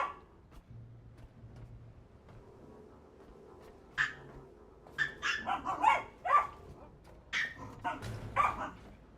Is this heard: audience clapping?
no